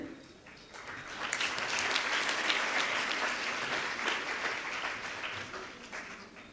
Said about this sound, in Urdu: یہ ساری تالیاں ڈاکٹر شاہ فیصل کے لیے ہیں